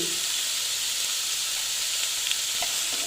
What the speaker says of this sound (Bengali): একটু আবার নেড়ে চেড়ে নিচ্ছি